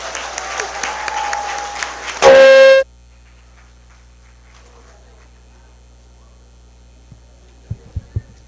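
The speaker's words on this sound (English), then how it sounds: "Those are my students clapping." Students clapping, a dense burst of applause for the first two seconds mixed with a loud distorted tone, then near silence with a few faint knocks and thumps at the end.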